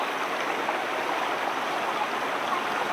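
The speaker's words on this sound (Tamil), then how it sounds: "இதான் மலட்டாறு ஓடை" The Malattaru mountain stream on the Sathuragiri trek flows in a steady, close rush of water, burbling evenly without any talking.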